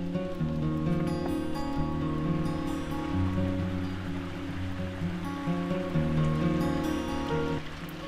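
Stream flowing near Loughrigg Fell outside Ambleside, a steady close rush of water with a continuous wash and no clear breaks, carrying on alone for the whole stretch without any voices.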